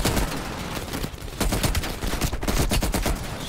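Rapid bursts of gunfire from Call of Duty Cold War, dense and loud, with shots rattling off in quick succession throughout and no talking.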